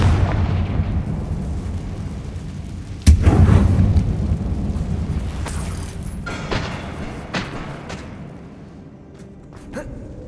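A Bombarda blasting spell from a Harry Potter video game goes off in a mine, a sudden deep booming explosion followed by a rumbling tail and a few later crackling bursts and debris-like hits.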